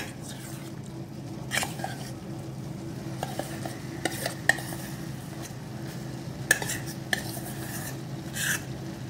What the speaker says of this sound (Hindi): पैन हल्का गर्म हो गया है तो मैं इसमें डाल दे रही हूँ खोया